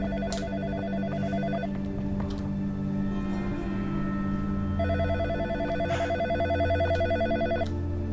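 A telephone rings in the horror game In Sound Mind, with two bursts of trilling electronic bell tone separated by a pause and a steady low hum under both.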